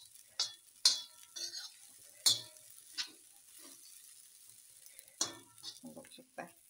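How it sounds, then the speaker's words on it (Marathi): Curd (yogurt) sautéed and stirred in a pan, quiet sizzling broken by several sharp scrapes and clinks of a spoon against the pan at irregular intervals, heard close. "दही छान परतू द्या दही"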